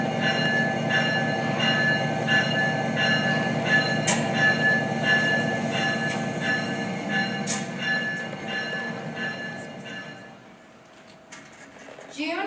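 Orphan train leaving New York and heading west in 1919, heard as a steady, loud rumble of rolling railway cars with wheel clatter and faint squeals, easing off toward the end.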